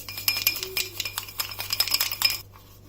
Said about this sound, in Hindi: इसको हल्के हाथ से हम ऐसे मिक्स करेंगे